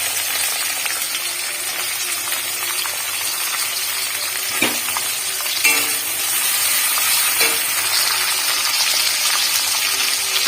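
Onion added to hot oil seasoned with panch phoron sizzles steadily and loudly for about ten seconds, with a few soft clicks of stirring cutting through the hiss.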